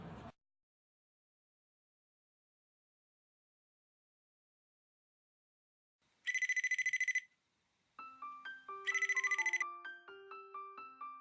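After a long silence, a Sharp RoBoHoN robot phone's incoming-call ringtone plays: two bursts of bright electronic trilling separated by a pause, then a clean synthetic melody of stepped tones running underneath.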